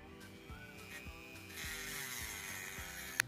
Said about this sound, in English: So cut this out on the bandsaw real quick.